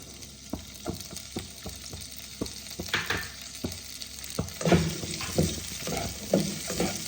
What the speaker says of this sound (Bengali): এবার আমি অল্প ঘি দিয়ে কাজু কিশমিশগুলোকে ভেজে তুলব।